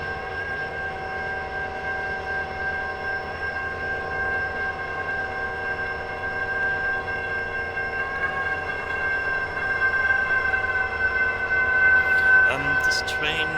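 Simulated trains in the Trainz railroad game rumble steadily with a sustained engine drone and a long, level horn-like tone throughout, a brief louder burst near the end.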